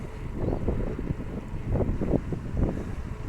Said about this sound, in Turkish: Soldan böyle tatlı tatlı esen rüzgar tarlaların arasından